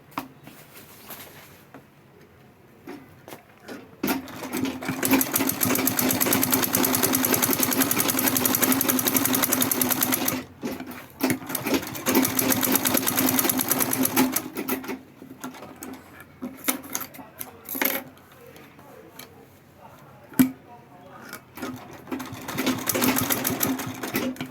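A sewing machine stitching the lining of a denim tote bag, running in long steady bursts broken by short pauses and a few brief stops.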